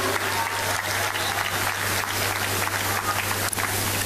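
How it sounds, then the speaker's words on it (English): Steady audience applause at a gathering, a thick continuous patter of many hands holding at an even level throughout, over a low constant hum. "Sisters and brothers, a round of applause to her."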